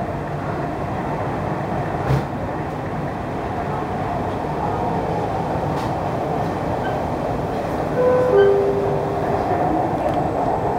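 A Dubai Metro train rolls from the airport with a continuous, close cabin rumble of wheels and motors, a brief squeal rising near the end.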